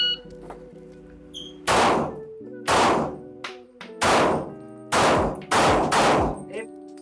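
Glock pistol firing at an indoor shooting range: six sharp, loud shots in two spaced groups of three, each with a ringing decay and a steady hum beneath.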